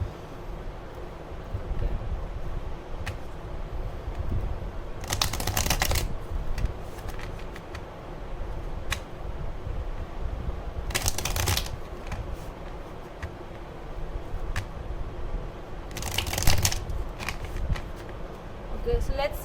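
Tarot cards shuffled by hand in repeated bursts of rough papery rustling, close to the microphone over a steady background hiss, with a person talking alongside.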